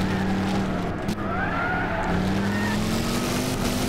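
Historic race cars in Gran Turismo 6 roar on full throttle in a loud, continuous engine drone whose pitch climbs steadily, with a brief tire squeal near the start.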